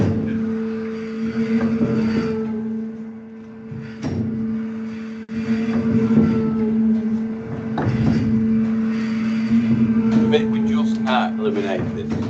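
Low, steady hum and throb of the engine driving the Victorian Goole swing bridge, continuous with faint periodic rises in pitch, heard under someone talking nearby.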